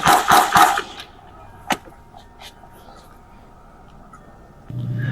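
A single sharp gunshot rings out during a police officer-involved shooting in Phoenix, following loud shouting at the start, then faint scattered sounds and a low engine-like hum.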